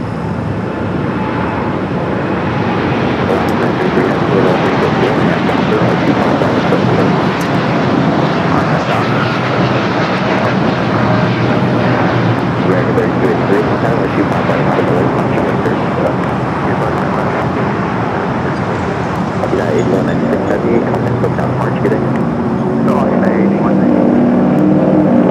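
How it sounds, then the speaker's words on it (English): An airliner departing LAX on a flight to Newark, heard as a loud, continuous broadband jet roar that holds steady for nearly half a minute, with radio chatter and talk faintly mixed in underneath. "It's the flight to Newark."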